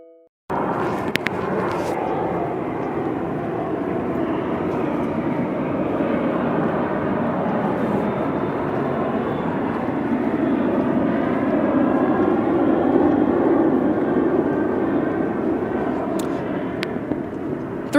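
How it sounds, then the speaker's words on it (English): Airplanes pass overhead as a steady, broad engine roar that swells slightly toward the end, sustained and moderately loud with no voices. "That's amplified plane activity amongst what is the specific environment."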